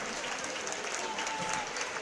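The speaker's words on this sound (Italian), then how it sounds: "l'applauso del pubblico per le due squadre è importante" A crowd at a Viareggio Coppa Italia Serie A2 match applauds both teams after the game, a steady wash of clapping throughout with a voice talking over it.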